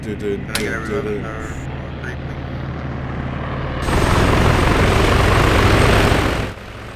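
Helicopter rotor and engine noise in ARMA 3 during a King of the Hill match with the RHS mod, a steady loud drone that swells sharply partway through and then drops back, with a voice talking over the start.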